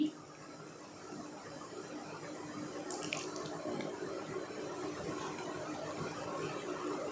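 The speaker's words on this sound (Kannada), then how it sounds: "ಇವಾಗ ಮತ್ತೊಮ್ಮೆ ನೀರನ್ನು ಚೇಂಜ್ ಮಾಡಿ ನಾನಿಲ್ಲಿ ಮತ್ತೆ ಬೇರೆ ನೀರಿಂದ ನಾನಿಲ್ಲಿ ತೊಳ್ಕೊಂಡಿದ್ದೀನಿ" Water splashes and trickles steadily as silver anklets are washed by hand in fresh water, close and fairly quiet, with a brief clink midway.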